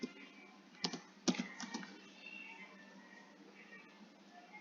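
Keys clacking on a computer keyboard while entering HTML code for an online registration form, with a few sharp, louder keystrokes near the start and then a lighter, faint patter of typing.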